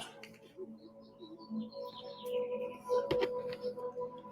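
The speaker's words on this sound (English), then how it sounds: "Listen to the birds." Birds chirp and tweet faintly in the distance, scattered short calls over a quiet background with soft rustling.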